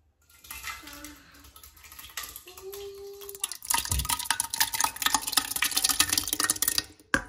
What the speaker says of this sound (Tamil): இந்த ஜாருக்குள்ள நம்ம இந்த லிக்விட் எல்லாமே ஊற்றிடலாம்